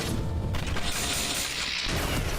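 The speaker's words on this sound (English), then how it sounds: "So you shoot, obviously, and then when you let go, it shoots a burst of bullets" Video game gun firing a burst of bullets, loud dense booming blasts packed together over a couple of seconds with no talk.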